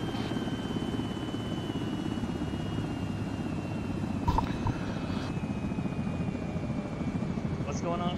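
Helicopter rotors spool up in a military simulation game, a steady droning whir running the whole time beneath radio chatter and talk.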